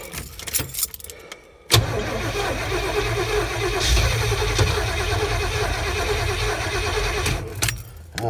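A vehicle left sitting in the cold cranks briefly amid a jingle of keys, then catches and settles into a loud, rough idle close by before revving slightly and easing.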